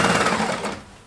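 A sewing machine stitching jersey knit fabric for a child's pullover, a brief steady whirring hum that fades out after about a second, close and fairly loud.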